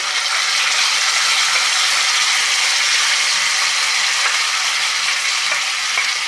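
Garlic chutney hits hot oil and sizzles loudly and continuously, a dense, bright crackling hiss close up that holds steady throughout, with faint stirring scrapes.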